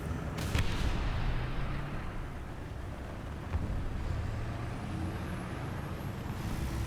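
The heavy engine of an Object 279 tank rumbles loudly and steadily as it drives forward in a tank video game, with a sharp burst early on and a thin rising whine toward the end.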